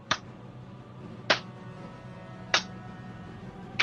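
Four slow, deliberate claps ring out one at a time, spaced more than a second apart, each a sharp crack over a quiet background.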